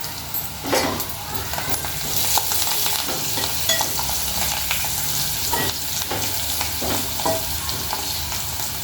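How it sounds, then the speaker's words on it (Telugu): Onions frying in a pan with turmeric and mint for a chicken fry: a strong, continuous sizzle with frequent spatula scrapes and knocks as they are stirred. "ఉల్లిపాయలు మంచిగా ఫ్రై చేసుకోవాలి"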